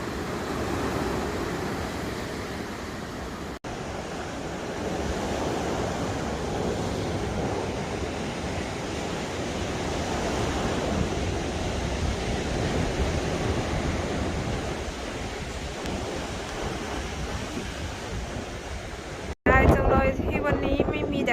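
Surf rolls and washes against the shore at Gallipoli, a continuous broad rush of sea waves mixed with steady wind buffeting the microphone, fairly loud and even, with a brief burst of other sound near the end.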